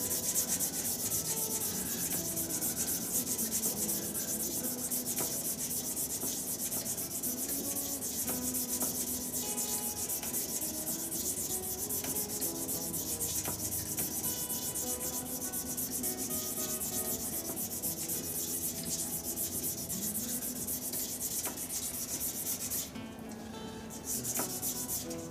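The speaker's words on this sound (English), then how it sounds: "give it a good rub up by hand in all different directions" Steady, continuous abrasive rubbing by hand on a clear epoxy resin shaving brush handle, a dense close-up scrubbing texture moving in varied directions, loud and unbroken for the whole stretch with no talk.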